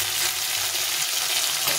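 Hilsa fish frying in hot oil gives a dense, loud, continuous sizzle with no voices over it.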